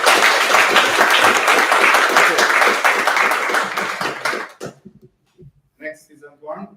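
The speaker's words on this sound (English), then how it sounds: "let's give them a big round of applause." A meetup audience claps loudly and densely for about four and a half seconds, then the applause cuts off, leaving a short pause before a voice speaks.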